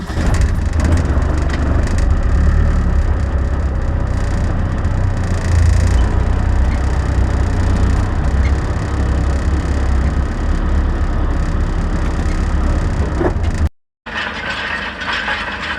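A rattly roller machine runs loudly and close by on sandy soil, giving a continuous clattering, grinding mechanical rumble with a brief dropout near the end before the clatter resumes, with no talking.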